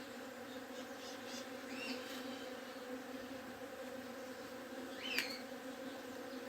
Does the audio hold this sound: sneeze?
no